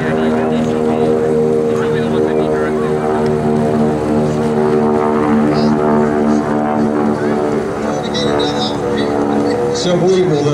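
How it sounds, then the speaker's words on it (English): A TBM Avenger, a heavy piston propeller aircraft, drones loudly and steadily overhead with a thick harmonic engine roar as it circles around to land at an air show, with voices talking over the engine noise. "It looks like life's good for John here as he brings the TBM around to land."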